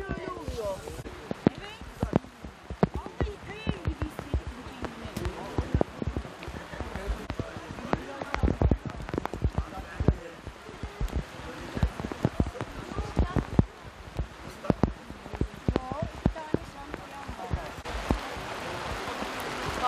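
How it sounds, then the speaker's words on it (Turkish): Rain pattering on an umbrella during an outdoor vigil in the rain, a close, irregular stream of sharp drop ticks continuing throughout, with people talking at times. "böyle takır tıkır takır tıkır yağmur yağar da sesler gelir ya, piyano sesi gibi"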